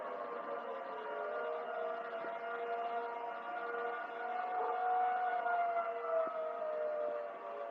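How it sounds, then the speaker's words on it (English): Electromechanical civil defense sirens wail in a long, sustained tone that slowly swells and falls, sounding distant and eerie, with no talking over it. "So here are some famous electromechanical siren models."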